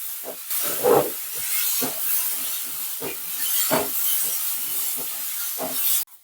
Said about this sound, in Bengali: একটু ভাজা ভাজা করবো মুসুরির ডালটাও